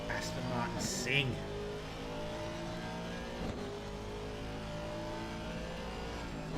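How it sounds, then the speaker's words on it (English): An Aston Martin race car's engine revs hard at Oulton Park in the Assetto Corsa Competizione racing game, a steady, droning engine note with rising harmonics and a brief squeal near the start, with voices talking faintly over it. "Listen to that Aston Martin sing."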